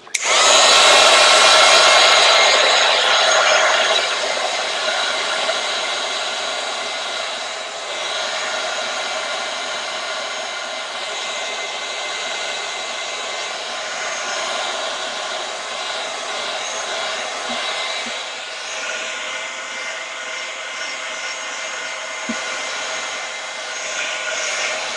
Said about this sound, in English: So this side, I'm going to hit with my heat gun again.